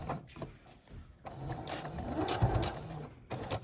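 An inexpensive Brother sewing machine back stitches a doll nightgown, whirring in short close bursts with brief pauses and a longer steady run in the middle.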